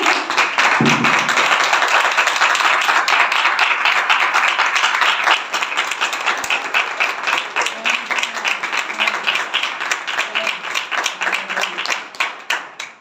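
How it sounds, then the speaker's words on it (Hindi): A church congregation claps steadily through a worship service, with dense, loud, continuous applause that softens into a more uneven patter near the end. "ये ताली हमारे जिंदा खुदा के कलाम के लिए है"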